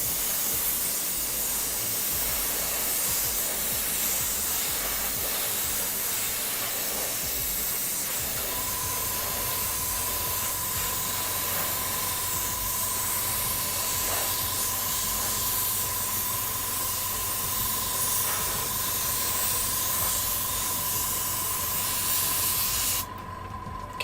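A spray can hisses continuously and close up while paint coats foam miniature scenery, a steady aerosol rush that keeps going for the whole stretch with no pauses.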